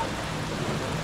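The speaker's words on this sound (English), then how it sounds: "And can you believe it? It's raining." Steady hiss of rain falling, a continuous wash of noise without pauses, moderately loud and close.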